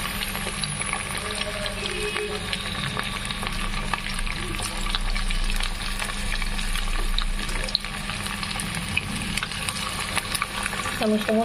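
Chicken pieces for Chicken 65 frying in a batch in medium-hot oil, a steady loud sizzle and crackle running throughout without a break.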